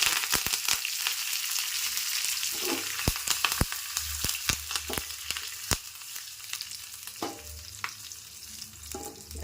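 Curry leaves sizzle in hot oil for a tempering, a close crackling fry broken by repeated sharp clicks and taps of a utensil against the pan.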